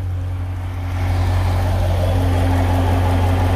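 A 2015 Chevrolet Corvette C7 Stingray engine idles close by, hot after running, a steady low throbbing hum that grows slightly louder after a second and holds constant.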